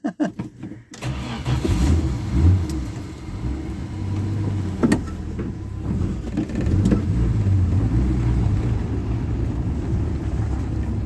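A 1976 Dodge D100 pickup truck's engine revs loudly and steadily after a rough start, a close, throaty drone that swells and holds for about ten seconds without any voices.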